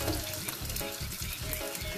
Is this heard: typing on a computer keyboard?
no